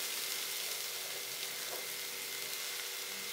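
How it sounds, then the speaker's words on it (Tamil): Flattened rice (aval) stirring and frying in a pan over a low flame, a soft, steady sizzle with a faint scrape of stirring partway through, quiet and continuous with no voices. "இதை நல்லா ஒன்று சேர்ந்து கிளறுங்க"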